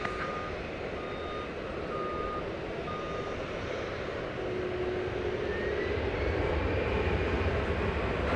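American Airlines jet departing DFW Airport, a broad engine roar that builds gradually toward the end, with short repeated reversing-style beeps from ground vehicles sounding intermittently over it.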